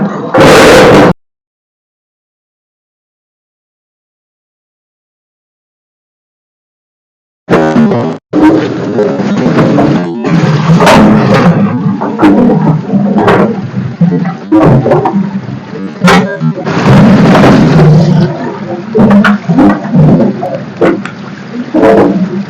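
A new-model cassava peeling machine starts up loud after a short burst and a long silence, then churns with a rough, continuous roar broken by irregular knocks and thumps.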